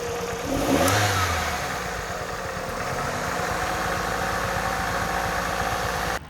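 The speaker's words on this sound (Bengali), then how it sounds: "এখন কিন্তু গাড়ি স্টার্ট অবস্থায় আছে। গাড়ির একটু কোনো জায়গায় কিন্তু কোনো নয়েজ নাই, জাস্ট ইঞ্জিন চললে যে সাউন্ডটা হয় সেটাই।" A Toyota 111 Crystal car engine starts up, rises briefly in revs, then settles into a steady, even idle with a low rhythmic pulse, heard up close and alone.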